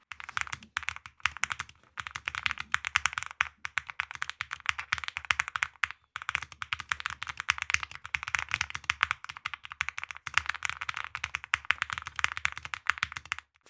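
Rapid, continuous clacking of a mechanical keyboard being typed on up close, with a couple of brief pauses and no talking.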